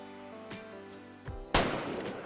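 A rifle shot at a mule deer in the hunting game Way of the Hunter 2: one sharp, loud crack after a short stretch of quiet ambience with a couple of faint soft knocks, followed by a decaying rumble.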